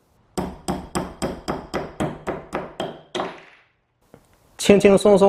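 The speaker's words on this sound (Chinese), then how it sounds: "这个螺钉就被敲断了。" A hammer strikes a wood screw about ten times in quick, even, ringing blows until it snaps. A brief pause follows, then a person speaks.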